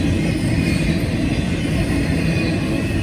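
CSX freight train rolling past on the Cumberland Sub, a steady loud rumble of wheels and cars filling the whole stretch without a break, no voices.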